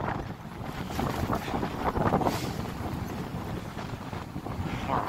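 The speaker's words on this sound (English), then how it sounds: "I hope you guys can hear me over the sound of the wind" Strong wind buffeting the microphone on a blustery day outdoors in Miyazaki, a continuous loud low roaring rumble with gusty surges, with no clear voice over it.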